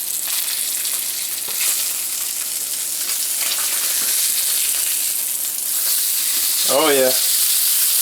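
Seasoned sea trout fillets fry in a pan with a steady, close sizzling hiss that holds throughout, and someone briefly speaks near the end.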